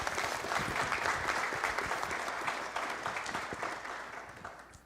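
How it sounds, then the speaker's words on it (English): Applause fills a city council meeting chamber, a dense, steady clapping from the audience that gradually fades toward the end. "If I could say just a few words about Nancy, let's give her a round of applause."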